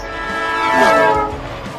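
A train blares its horn as it rushes past, the loud rumble and tone rising and then falling in pitch with the Doppler shift as it goes by, heard alone.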